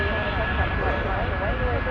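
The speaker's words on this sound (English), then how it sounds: "There's a big plane passing." A big jet airliner in the Airline Commander flight game rumbles past with a steady, dense engine roar, loud and continuous with a faint whine on top.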